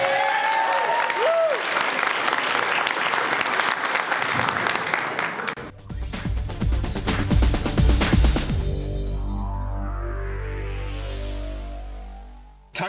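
A convention crowd at Motor City Comic Con 2015 applauds Boba Fett actor Jeremy Bulloch at the close of his panel. The clapping is broad and steady at first, then gives way to music that fades out near the end.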